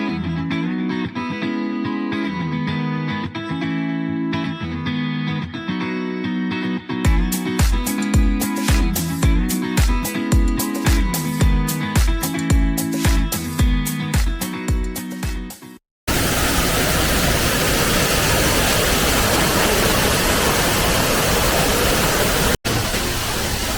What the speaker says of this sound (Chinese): 后面就是那个大瀑布。